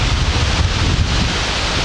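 Strong wind blows across an RV campground, buffeting the microphone with loud, continuous low rumble and broadband roar throughout, with no voices.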